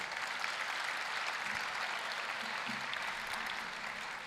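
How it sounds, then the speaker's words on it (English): Graduation audience applauding steadily, a dense even patter of many hands clapping at moderate distance, sustained without a break. "So give the whole David family a big round of applause."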